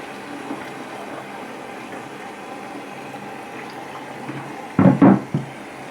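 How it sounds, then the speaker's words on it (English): Fresh water running into a blocked sink drain as it is flushed out, a steady low rush and trickle throughout, ending with a couple of louder splashing gulps. "I'm going to flush it out with a large quantity of fresh water"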